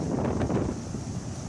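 Gusty tornado wind roars across the microphone in a steady, buffeting rush, loud and continuous with no voices.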